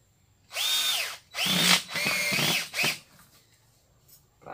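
Power drill drives screws into a tire being made into a swing, with three or four whining bursts close by, each rising in pitch and separated by short pauses.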